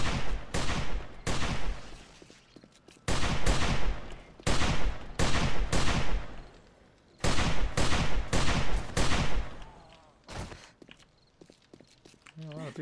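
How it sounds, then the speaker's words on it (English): Many players fire guns together in the video game 7 Days to Die, heard as dense, loud volleys of rapid shots in several long bursts with brief lulls, along with talking. "A lot of people shooting."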